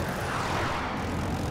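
An aircraft engine roars steadily and continuously in a Battlefield 2042 match, a broad unbroken rumble with no voices over it.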